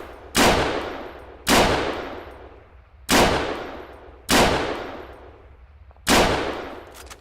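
Steyr AUG rifle fire in Arma 3: five loud single shots at roughly one-second-plus intervals, each with a sharp crack and a long decaying echo tail.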